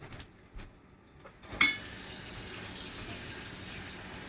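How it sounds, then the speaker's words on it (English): A faucet runs steadily into a pan after a few light clinks of metal, the water stream a constant close hiss filling the rest of the clip. "So I'm just going to fill the pan up and show you how we get started."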